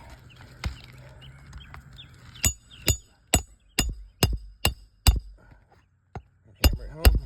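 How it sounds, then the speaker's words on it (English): A hammer drives a trim nail into roofing, a run of sharp, close metallic blows in uneven rhythm, about a dozen strikes with short pauses between them. "hammer it home."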